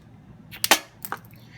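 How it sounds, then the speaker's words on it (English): A toy Power Rangers Dino Super Charge Spino Zord firing its missile: a sharp plastic click-snap followed shortly by a second lighter click, close and fairly quiet, with no talking. "you can fire the missile if you want"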